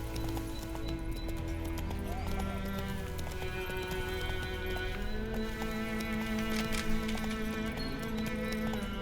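Rhythmic clip-clop hoofbeats of a galloping horse in a video game, steady and fairly close, over a game music bed with an occasional whinny.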